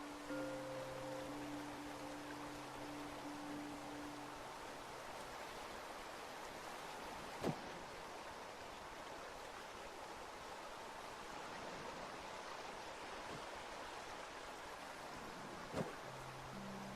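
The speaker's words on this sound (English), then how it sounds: "This tumbling waterfall presents a beautiful but dangerous challenge." Steady broadband rush of a tumbling waterfall in the survival video game Away: The Survival Series, continuous and even throughout, with a faint low hum at the start and end and two brief clicks.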